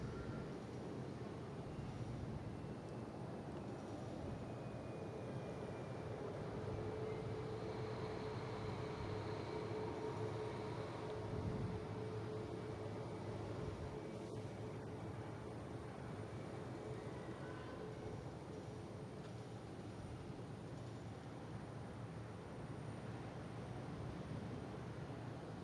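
A JetBlue Airbus A320 arriving from JFK touches down on runway 33 at Boston Logan International Airport, heard as a steady, distant, fairly quiet jet roar with a faint whine that lasts throughout, with no talk.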